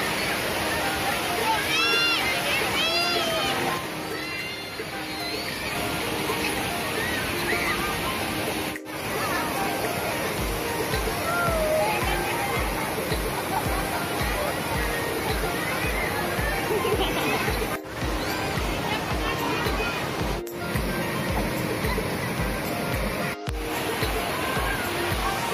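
River water at Sungai Cireong in Ciamis flows steadily with a continuous rushing wash that stays loud throughout, while a few faint voices and occasional clicks sit underneath.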